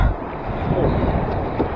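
Rough, high sea waves surge around a kayak at sea, a steady loud roar of water mixed with heavy wind noise on the microphone throughout.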